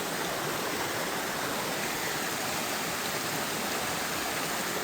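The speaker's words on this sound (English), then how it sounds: "A bit of a waterfall." Waterfall beside a narrow Smoky Mountains trail near Cosby, Tennessee, pouring in a steady, dense rush of white water that fills the whole clip, close and continuous with no voices.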